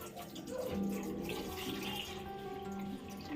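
Water pours and splashes as a small child is bathed at home, a soft continuous running flow with a faint tonal hum in the background.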